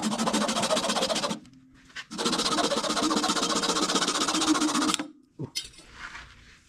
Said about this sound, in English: sand the top, Yorkshire grit.